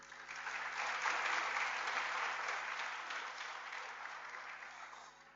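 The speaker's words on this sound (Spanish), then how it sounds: "Les pido un aplauso" Warm applause from an audience at a public talk in Uruguay, swelling quickly and then slowly fading, close and continuous.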